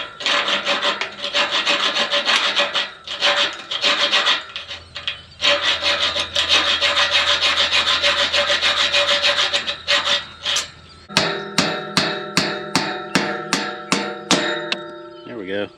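A bolt being cut with a hand saw or file, harsh rhythmic rasping strokes close up and loud, then a run of about ten sharp metallic strikes toward the end.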